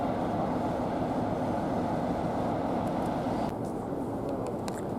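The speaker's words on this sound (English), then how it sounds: "Now that train's moved" Heritage railway train on the Wensleydale Railway rumbles along steadily, a loud broadband roar that continues throughout, with faint metallic clicks near the end.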